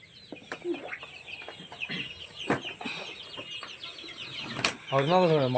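Country chickens cluck and squawk near and far, with wings flapping in sharp bursts and a louder warbling call near the end.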